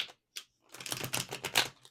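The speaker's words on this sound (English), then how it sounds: "As I'm shuffling" Tarot cards are shuffled by hand in quick, crisp riffling bursts of papery clicks and flutters, separated by short pauses and played close without talk.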